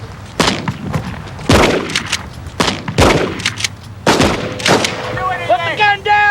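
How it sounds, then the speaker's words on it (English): Repeated shotgun blasts ring out at roughly one-second intervals, four or five loud booms fired at a target about 125 yards away during a police armed confrontation, with a short tonal squeal or radio noise trailing at the end. "We were shooting a number of shots, but because of the distance of 125 yards with the shotgun"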